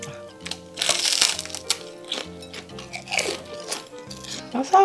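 Crispy sesame-coated Korean food is bitten and chewed close to the mic, giving loud crackling crunches in quick bursts while someone talks in between.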